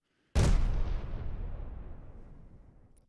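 A drum kit percussion sample in an FL Studio trap beat: one loud, booming hit with a long rumbling decay that slowly fades over about three seconds, alone with no other sounds.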